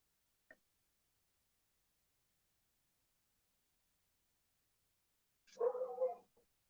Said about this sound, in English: That's my hound dog, if you guys happen to hear that. A little crazy hound puppy.